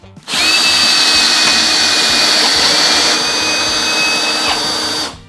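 Three Ryobi cordless drills spin up together at full speed for a speed test, a loud, steady high-pitched whine with a bright tone running for about five seconds before cutting off.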